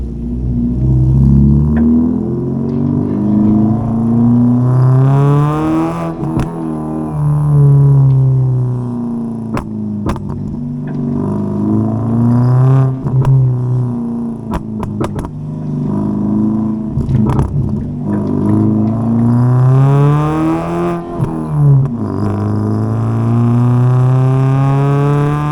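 A Ford Figo fitted with a new muffler revs repeatedly, its engine climbing and dropping in pitch with sharp crackling pops and bangs between pulls, loud and heard from outside the car with no speech.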